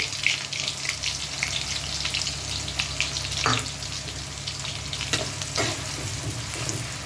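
Onions, added after green chillies, fry in hot oil for a Bengali fish curry: a loud, steady crackling sizzle close by, broken by a few sharp stirring clicks and scrapes, with no talk.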